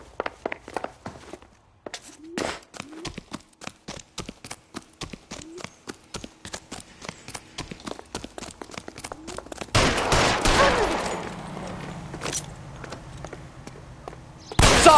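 Gunfire in the L.A. Noire video game: a long run of sharp, evenly spaced shots, then a louder, denser burst of firing near the end.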